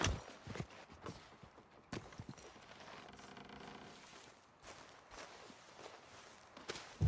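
Irregular horse hoof clops and footfalls in the video game Red Dead Redemption 2 move at a walking pace over a quiet outdoor ambience, with a few sharper thumps near the end.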